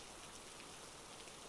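Steady rain falls in a soft, continuous hiss of drops on surfaces, faint and even throughout with no voices.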